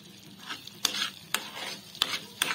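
Thick mango pulp cooks down in a pan for mango barfi. A spoon stirs and scrapes it in about four short, close strokes over a faint low sizzle. The sound is quiet and there is no speech.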